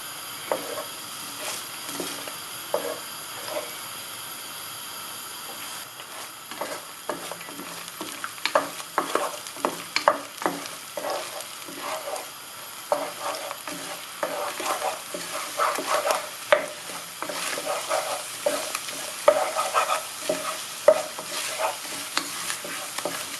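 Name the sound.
eggs scrambling and sizzling in oil in a pan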